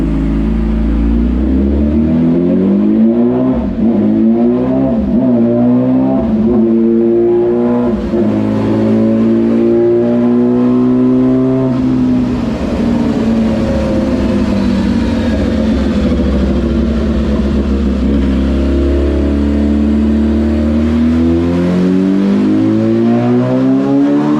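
A Yamaha R6 motorcycle engine revs hard on a dyno, loud and close, with a sustained pull whose pitch climbs and falls repeatedly through several rising sweeps.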